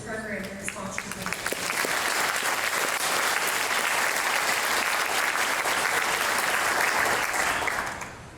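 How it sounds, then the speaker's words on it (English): Banquet audience at the East Alabama Chamber of Commerce annual dinner and awards applauding a program and its sponsors, a dense roar of clapping that swells after a brief lead-in, holds loud and steady, then fades out. "let's give a round of applause for this program and its sponsors"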